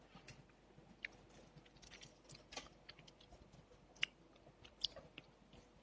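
Teeth bite through a hard fibre of sweet tamarind, giving faint, sharp crunchy snaps spread across a quiet stretch, with soft chewing between them.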